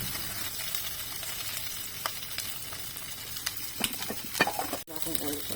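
Shrimp frying in olive oil in a pan at home, giving a steady close sizzle with occasional clinks and stirring noises over it.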